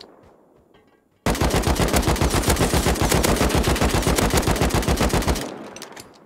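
Sustained automatic gunfire from the Rust video game on a modded server: a loud, rapid, even burst of shots lasting about four seconds that starts abruptly out of quieter ambience and ends just as suddenly, with no talk.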